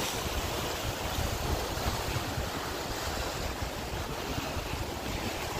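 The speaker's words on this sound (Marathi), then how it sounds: "हे डायरेक्ट इथनं प्रेशरनं पाणी जातं आणि असं वरती येतं" Sea water surges up through coastal rocks under pressure at Guhagar, a steady loud roar of rushing water and surf with wind across the microphone, continuous throughout with no voices.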